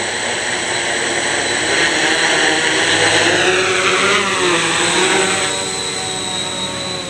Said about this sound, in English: flying the Hobby King X650F, which has now got the NAZA Lite flight control unit